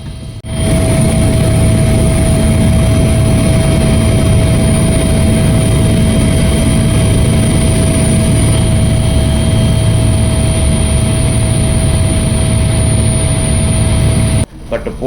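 Helicopter flying over the Himalayas between Pasighat and Anini in Arunachal Pradesh, heard as a loud, unbroken engine and rotor drone with a steady whine that carries through the whole stretch and cuts off abruptly at the end.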